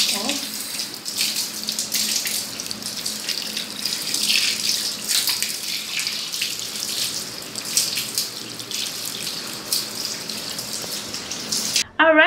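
Tap water runs steadily from a faucet into a sink as lotion is rinsed off the legs, a continuous close splashing hiss that holds for about twelve seconds.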